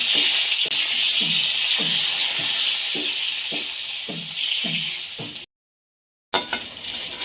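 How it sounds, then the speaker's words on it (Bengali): Eggplant pieces hiss and sizzle in hot oil with a rhythmic series of stirring strokes. The sound cuts out briefly near the end, then the frying noise returns. "এবার ওই তেলের বেগুনগুলো ভেজে নেব"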